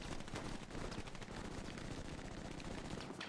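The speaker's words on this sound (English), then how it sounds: "A lot of gunfire coming straight down this road." Gunfire in the World War II shooter game Hell Let Loose, a dense, continuous rattle of rapid automatic shots with overlapping bursts, loud and unbroken for several seconds.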